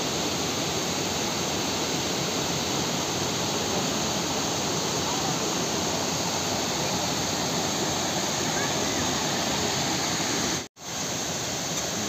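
A waterfall in dense forest at Jim Corbett pours with a constant, loud, broadband roar of rushing water that fills the whole stretch, briefly cut by one short dropout near the end.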